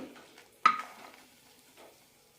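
Onion sautéing in a pan for onion tamarind chutney, quiet sizzle with scraping stirs and one sharp utensil clack near the start, fading to soft frying.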